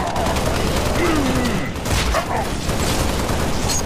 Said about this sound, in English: Somebody's tossing grenades.